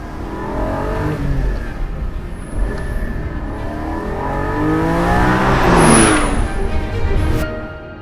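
Porsche 718 Spyder roadster engine, essentially a soft-top Cayman GT4, pulling steadily while driving, with a continuous loud drone whose pitch rises and falls through revs, building to a peak near the end.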